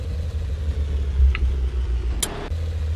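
A tank engine in the vehicle-building game Sprocket drones with a low, steady rumble, its pitch shifting slightly through a gear change, with a couple of brief higher clicks over the continuous engine noise.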